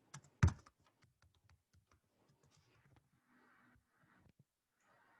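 Brief bursts of computer keyboard typing while entering a password, a loud click near the start followed by faint scattered keystrokes over quiet background.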